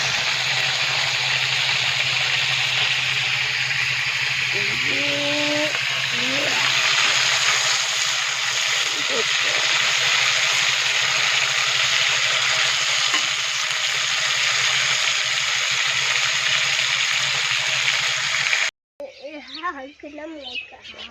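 Paneer sizzles and fries loudly in a pan for a long stretch, a steady hiss with a faint bird chirp; talking begins at the end.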